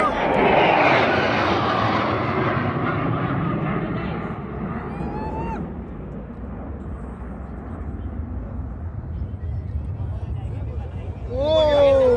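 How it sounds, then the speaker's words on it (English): Sukhoi fighter jets of a squadron fly overhead in formation during a Republic Day parade flypast, a loud, broad jet roar that swells and then recedes into the distance, with a second approach rising again at the end; a commentator talks over it. "The Sukhois flying today are from 15th Squadron, also known as the Flying Lances."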